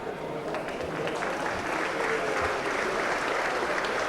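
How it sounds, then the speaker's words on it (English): A large crowd applauds at a hurling final in O'Connor Park, Offaly, Tullamore against Gracefield in 2002, with sustained dense clapping throughout and voices mixed in. "a big crowd here at O'Connor Park for this final"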